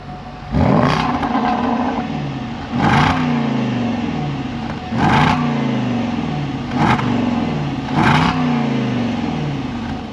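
Supercharged V8 of a Jaguar F-Pace SVR revved five times in close succession, each loud, sharp blip dropping back to a burbling idle between bursts, heard up close with no talking.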